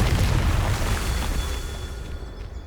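A Confringo spell explosion in the video game Hogwarts Legacy, one deep boom whose rumble decays over about two seconds.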